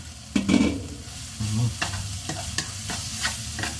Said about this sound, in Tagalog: hanggang sa lutong-luto na ang ating bagoong